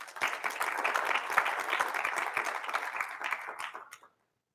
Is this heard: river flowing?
no